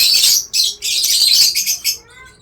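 Pet birds kept for breeding make dense, shrill chirping and squawking, loud and close, in overlapping bursts that taper off into a few thin calls, with no one talking.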